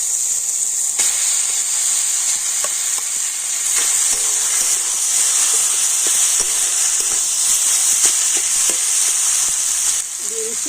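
Ginger frying in oil in a pan gives a loud, sustained close-up sizzle, dotted with small crackles and pops and the odd utensil tap.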